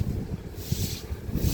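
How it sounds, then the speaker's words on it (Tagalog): Strong wind buffets the microphone in low, rumbling gusts, with a brighter airy rush swelling in the middle and again at the end. "lakas ang hangin"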